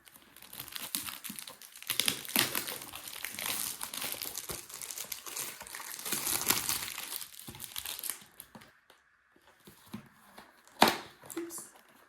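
Plastic wrapping crinkles and crumples for several seconds as a package of rosé champagne is torn open, loud and busy, then drops to near silence with a few sharp rustles and one crisp snap near the end.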